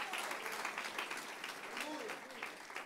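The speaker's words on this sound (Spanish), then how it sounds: "Un aplauso al Señor en esta bendita hora," Church congregation clapping in praise during an evangelical sermon, a steady dense patter of many hands filling the room at moderate distance, with faint voices calling out beneath it.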